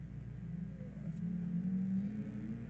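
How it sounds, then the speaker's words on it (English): Drift car engines at Apple Valley Speedway accelerate in the distance, a low rumbling drone that swells gradually with a rising engine tone, moderately loud, with no talking. "I just can't wait to hear the sound of those engines as they put their foot down to the floor and initiate."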